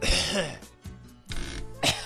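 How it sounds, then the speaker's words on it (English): A few short, rough coughs and throat-clearing sounds from a person nearby, in quick bursts. "I got a cough."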